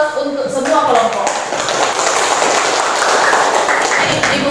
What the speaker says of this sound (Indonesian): jadi berikan aplaus untuk semua kelompok